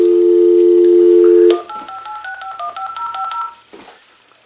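An AT&T EP5995 speakerphone plays a steady dial tone that cuts off into a quick run of dialing tones, the beeps clear and close in a quiet room with no talking.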